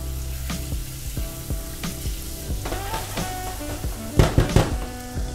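Chopped onions and garlic hit a hot pan and sizzle steadily, with a few sharp clattering stirs near the end.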